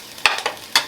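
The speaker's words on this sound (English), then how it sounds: "I'm going to saute my veggies for about 2 minutes" Garlic and thyme sautéing in a pot give off brief crackling bursts and a soft stirring scrape, close and fairly quiet, with no talking.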